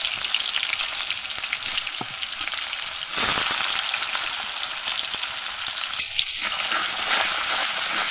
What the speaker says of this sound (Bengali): পেঁয়াজটাকে প্রথমে হালকা ভেজে নেব